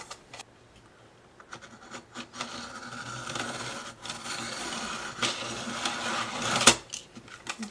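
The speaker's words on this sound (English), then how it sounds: "I'm going to be using this Martha Stewart Crafts circle cutter, and I'm going to be cutting some circles" A Martha Stewart Crafts circle cutter working through cardstock, giving repeated soft scraping and rasping strokes that build gradually, close by and fairly quiet, ending in a brief sharper scratch.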